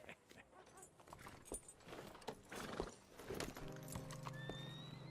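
A horse in the western game Red Dead Redemption 2 gives faint hoof clops and a whinny amid busy background game sound, fairly quiet and distant, ending with a sustained tonal hum.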